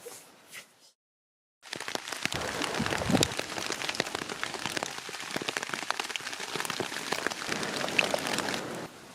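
Steady rain patters densely on a surface outdoors during a swimpacking camping trip, a continuous close hiss with scattered louder drops, following a brief quiet gap at the start.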